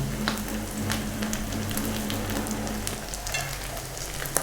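Aloo chicken cutlets fry in a pan as they turn light brown, giving a dense, constant sizzle with fine crackling pops that holds up close and steady throughout.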